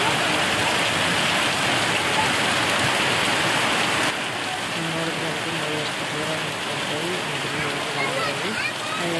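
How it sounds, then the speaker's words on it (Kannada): Heavy rain falls in a dense, continuous roar, loud and close. It eases slightly partway through but keeps pouring steadily to the end. "ಅಷ್ಟು ಮಳೆ ಬರಾಗತ್ತದ ನೋಡ್ರಿ ಇವಾಗಂತ್ರ"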